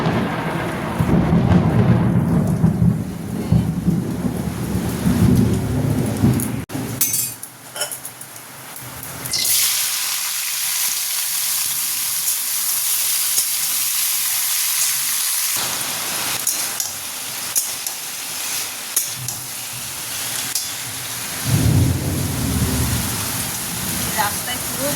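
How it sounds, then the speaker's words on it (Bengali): Heavy rain pours down with thunder, a dense, loud, unbroken hiss of rain on surfaces with deep rumbles of thunder rolling through at the start and again near the end. "এই দেখো বৃষ্টির তেড়ে বৃষ্টি আসছে"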